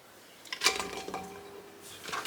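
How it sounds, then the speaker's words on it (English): Garlic and other ingredients go into a pan for Hainanese chicken rice, with a clatter of utensil against metal and a few light clinks, fairly quiet. "All the ingredients go in the pan."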